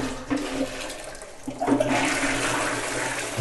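A toilet flush rushes close up: a short burst of water surges, then swirls and drains steadily.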